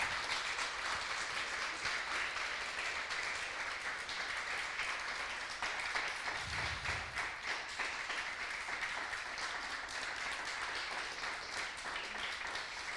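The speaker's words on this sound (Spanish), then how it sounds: "Vamos a darle un fuerte aplauso." Faint, distant applause from a church congregation, a soft steady wash of clapping that continues for the whole stretch with no voices on top.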